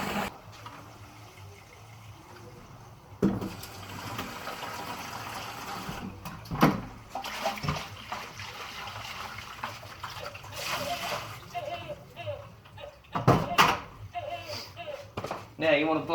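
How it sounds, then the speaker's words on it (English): Tap water runs and splashes while paint brushes are rinsed, an uneven gushing with sharp clatters and bangs, and someone talks over it at times. "you want to get the water running, like this"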